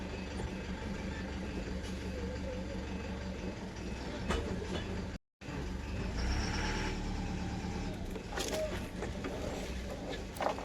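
Truck engine rumbling as the vehicle is driven back and forth, reversing repeatedly in a tight spot at a poultry shed, steady engine noise with a brief cutout midway and some faint beeps.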